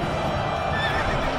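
A horse neighs in the LEGO Lord of the Rings video game during the Battle of Pelennor Fields, one loud, close whinny over a dense wash of battle noise and hoof clatter.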